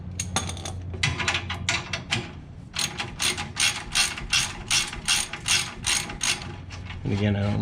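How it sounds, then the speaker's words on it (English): Close, steady clicking of a ratchet wrench tightening a bolt on a C2 Corvette bumper bracket, bursts of rapid rhythmic clicks with a brief pause, then a louder closing burst of mechanical rattling. "this one can probably be tightened the rest of the way"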